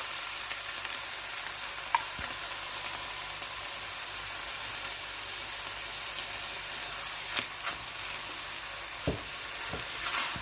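Chicken lasagna filling with tomato sauce sizzles steadily in a pan, a loud continuous frying hiss broken by a few scraping stirs and sharp utensil knocks near the end.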